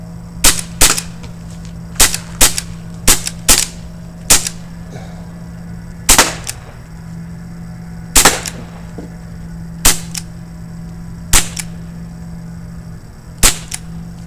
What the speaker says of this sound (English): some of these pellets are actually hitting the beers and bouncing off